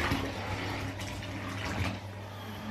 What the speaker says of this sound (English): Let me just turn this water off.